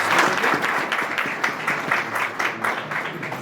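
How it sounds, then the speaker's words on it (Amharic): An audience at an event applauds warmly, dense sustained clapping from many hands filling the room, loud and close throughout. "ሞቅ ያለ ጭብጨባ"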